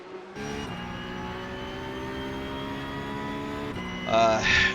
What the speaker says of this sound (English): Take the bump there and then full on the throttle right here